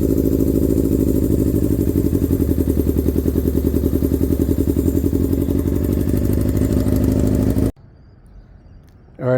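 A Honda CBR600RR motorcycle idles roughly, its engine running with a steady, loud, uneven chug up close before it abruptly cuts out near the end, followed by a brief faint noise.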